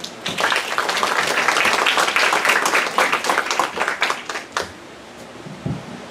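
An audience applauds at a university criminal studies workshop presentation, dense clapping filling the first four seconds and then thinning out into scattered claps.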